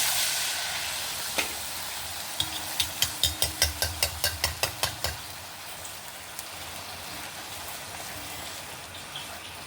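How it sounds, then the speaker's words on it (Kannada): Raw banana puri frying in hot oil, with a steady sizzling hiss and a run of about a dozen evenly spaced clicks partway through, then quieter frying. "ಇದನ್ನು ಮುಚ್ಚಿ ಎಣ್ಣೆ ಬಿಸಿ ಆಗಿ ಹಾಕೊಂಡ್ಬಿಡುವ"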